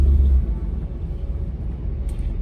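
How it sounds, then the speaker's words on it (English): Ford Lightning SVT supercharged pickup with a single side-exit exhaust rumbles at idle, a deep steady low drone that starts heavier and settles into a continuous throaty burble, close and alone. "Exhaust is side exit, single exhaust, and it sounds awesome."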